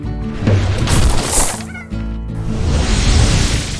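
Loud Slime Rancher game audio with chickens clucking and squawking amid thumps and crashes, busy and continuous throughout.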